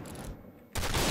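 Gunfire in the video game Point Blank, a sudden loud broadband blast that sets in after a brief quiet gap and stays dense and sustained, like a burst of shots, with no talk over it.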